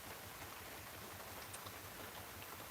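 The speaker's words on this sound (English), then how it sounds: "and now we're into heavy rain." Heavy storm rain heard from inside a parked car, a steady, dense hiss of drops drumming on the roof and glass, faint and unbroken with no voices.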